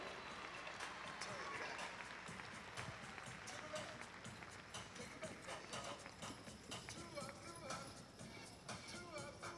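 Hooves of a six-horse hitch clatter in a steady rhythm as the team enters a show arena at a championship event, mid-distance under crowd noise and an announcer talking.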